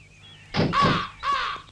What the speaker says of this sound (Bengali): আজকের পর থেকে এই বাড়িতে একটি কাকে ডাকও যেন না শুনি